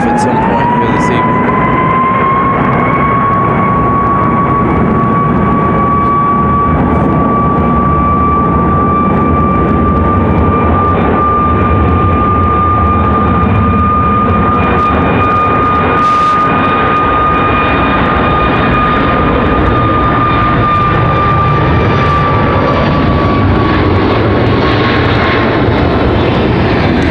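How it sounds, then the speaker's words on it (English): A Southwest Airlines jet airliner departs at Raleigh-Durham with a loud, sustained engine roar and a strong steady whine that builds and holds for nearly half a minute, close and dominant. "Nice departure for Southwest Airlines."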